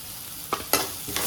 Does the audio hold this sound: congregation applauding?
no